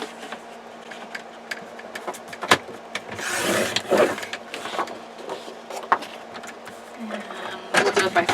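A Fiskars rotary paper trimmer slices a 1.5-inch strip of paper, a scraping swish of about a second in the middle, surrounded by quieter handling noises and light taps.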